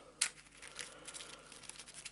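A deck of Eldritch Horror board game cards is shuffled quickly: a sharp papery burst opens, then a soft, continuous riffling crinkle follows close by, with no talking.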